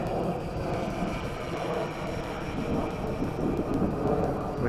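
A quadcopter carrying a RunCam HD camera flies in a strong headwind, giving a steady whirring motor drone with broad rushing wind noise and no voices.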